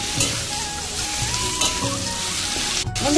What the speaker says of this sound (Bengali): এরকম আমার কচু শাকটা একদম পুরো ভাজা হয়ে গেছে।